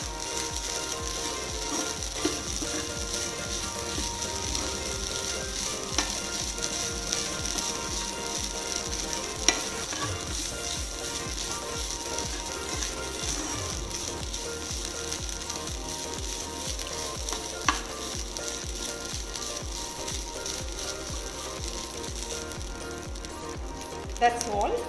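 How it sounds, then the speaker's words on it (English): Coconut lightly roasting in a pan makes a steady, soft sizzle with dry scraping and stirring clicks throughout, and no voices. "Lightly roasting the coconut removes the excess moisture from it"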